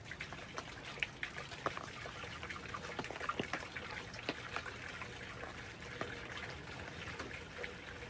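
50/50 premium conventional coolant being poured into a newly installed Subaru Forester engine, a faint continuous trickle and glugging with soft irregular drips throughout.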